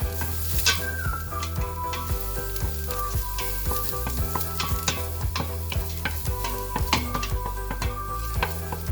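Garlic sizzles and fries in oil in a pan, as a topping for Vietnamese sweet and sour shrimp soup. A dense, loud sizzle runs throughout, with frequent sharp scrapes and clinks of stirring.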